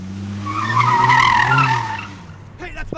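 A car pulls away with a long loud tire squeal and engine roar that swells and then fades as it leaves, followed by a voice shouting at the end.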